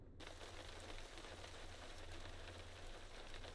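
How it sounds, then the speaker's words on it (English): Steady rain pours in the trucking game American Truck Simulator, a dense, even hiss with a low rumble underneath that holds loud and constant throughout, with no voices. "We've finally got some rain"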